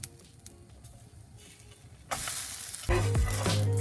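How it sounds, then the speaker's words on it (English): A banana blueberry pancake frying in oil in a pan, a soft sizzle at first that jumps to a loud, close crackle as more oil is added and grows louder still near the end, with no talking. "add more oil for the other side of the pancake to cook"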